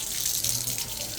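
Water gushes steadily from a large tap in a continuous close rushing hiss, with a faint voice in the background.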